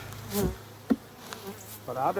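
Honey bees buzz around a frame during a honey harvest as they are shaken and wiped off, a low insect drone with a few brief louder bursts close by.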